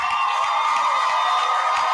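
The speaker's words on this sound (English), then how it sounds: "students, let's give your parents a big round of applause" Graduating students cheer and applaud their parents in a large hall at a university convocation, a loud, dense roar of clapping, whoops and shouting voices that holds steady throughout.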